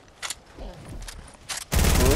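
Video-game gunfire erupts in bursts, with a few scattered shots early on and then a loud, sustained volley at the end, with faint background sound between.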